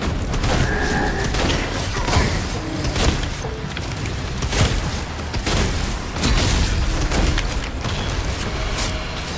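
Explosions and heavy combat blasts erupt in the video game Doom The Dark Ages, a dense barrage of booming bursts and crashes following one another rapidly at full loudness.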